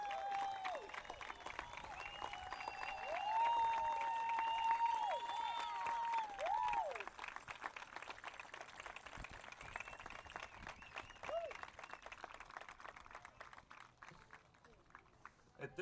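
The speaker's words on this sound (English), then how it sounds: "Let's give all these individuals one more round of applause." Spectators applaud during a baseball opening ceremony, Orange Grove at Odem, with clapping that swells early and then fades gradually under a tonal background and some talk.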